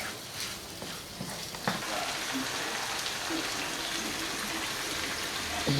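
Minced meat sizzles steadily in a pan over medium heat for stuffed crepes, a close, continuous frying hiss broken by occasional stirring scrapes.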